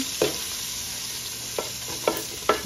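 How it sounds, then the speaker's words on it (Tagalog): Garlic, ginger and other aromatics for arroz caldo sautéing in a pan: a steady sizzling hiss with a few distinct spatula scrapes and stirs against the pan, close by and without talk. "Yung mga panakot na igigisa."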